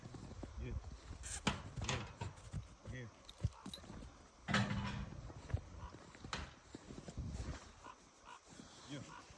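A young colt for sale moves about with hoof clip-clop under frequent nearby talk, with a dog barking and whimpering at times amid rustling and handling noises.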